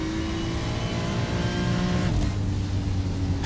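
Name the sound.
GT race car lifting off throttle in iRacing video game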